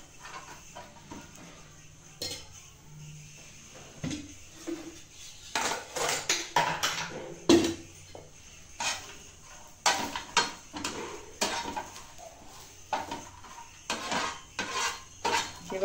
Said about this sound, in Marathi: मी एका पॅन मध्ये ते खोबरं टाकलं आहे आणि ते असं थोडंसं लाल होईपर्यंत मी त्याला भाजून घेणार आहे